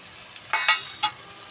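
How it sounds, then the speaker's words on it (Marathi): Onion frying in a pan with cumin during tempering, with a soft steady sizzle and a few brief scraping stir strokes, close and alone without talk. "आता आपण कांदा टाकलेला आहे, चांगलं फ्राय करून घेऊयात"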